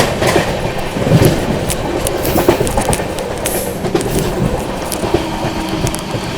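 Indian Railways 12398 Mahabodhi Express (New Delhi–Gaya) rolling along rails through Naini Junction, a steady loud rumble of wheels on track with intermittent clacks and metallic squeaks, no talking.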